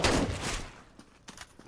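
Gunshots in Counter-Strike: Global Offensive, a loud burst of rapid fire at the start that fades, followed by a few scattered sharper shots further off.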